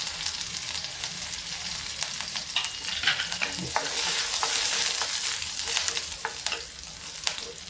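Loud, steady sizzling of garlic and chili frying in an iron wok, with scraping stirs and crackling pops throughout.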